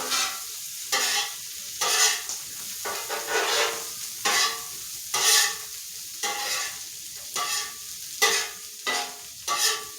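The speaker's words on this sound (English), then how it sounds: "This is just bacon fat that's rendering." Bacon fat rendering and sizzling on a hot flat-top griddle while smash burgers are prepared, a steady crackling fry broken by repeated scraping and stirring strokes of a spatula, close and fairly loud, with no talking.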